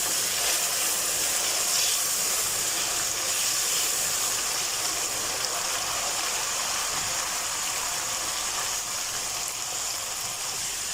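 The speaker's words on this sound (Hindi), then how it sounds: "मसाले को तकरीबन 4 से 5 मिनट के लिए अच्छे से भून लें।" Spice masala for an egg and pea curry fries in a pan with a steady, close sizzle. The even, hissing crackle runs unbroken throughout, and no voices are heard.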